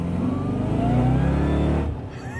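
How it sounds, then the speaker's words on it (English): Cadillac CTS-V wagon accelerating hard, its supercharged engine droning loud and close with a rising whine that climbs steadily before easing off near the end. "But the sound, the supercharger whine, the handling."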